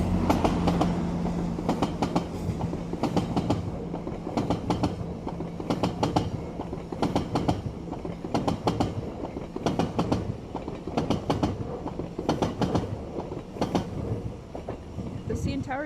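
A train passes in Toronto with a steady rolling rumble and a rhythmic clickety-clack of wheels over rail joints, close and continuous throughout.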